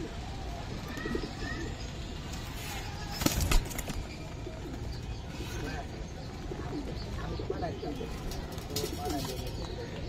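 Giribaj pigeons coo softly in a busy market, their low calls repeating under steady crowd chatter, with a brief burst of wing flapping or handling noise partway through.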